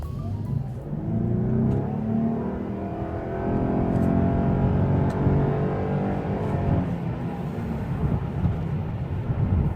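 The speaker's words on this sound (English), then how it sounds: "every so often you might want to stomp on the throttle and leave most of the traffic behind" A car accelerating hard with the throttle floored, its engine note rising and sustained loud for nearly ten seconds with no talk over it.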